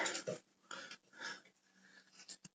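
Dogs pant and breathe heavily in short wheezy bursts after getting treats. The huffs come close and quiet, with uneven pauses between them.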